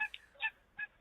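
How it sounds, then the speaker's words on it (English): Geese honking outdoors near a lake, three short loud calls spaced out over a second with quiet between them. "No, them are geese."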